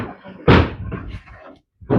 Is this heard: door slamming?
yes